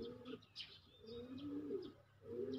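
Pigeons cooing in repeated low, throaty phrases close by, with a few brief high chirps scattered between the coos and no talking.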